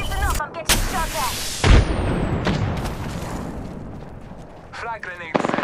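Gunfire in a shooter video game, with sharp booming shots and bursts near and loud, followed by a lingering rumbling decay, and the game's voice chatter heard in between.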